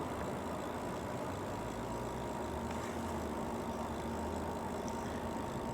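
An electric bike with a 750 watt hub motor, ridden up a hill on throttle alone, gives a steady low drone and faint whine under constant wind and road noise, with no talk.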